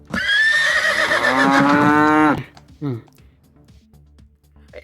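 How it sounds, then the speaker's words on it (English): A cow-sound moo box toy lets out one long, loud, mooing bellow that stops abruptly, followed by a brief fainter sound and quiet. "I've removed the box of noisy cow."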